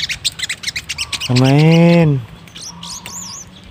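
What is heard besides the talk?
sogon birds calling in trees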